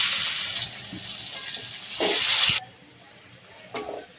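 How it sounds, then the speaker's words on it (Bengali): Chopped onion and nigella seeds hitting hot oil already spiced with bay leaf, cloves, cardamom and cinnamon, producing a loud, bright crackling sizzle that swells and then cuts off abruptly, followed by near silence and one faint clink. "এখন দিয়ে দেবো কালো জিরে, আর দিয়ে দেবো পেঁয়াজ কুচি"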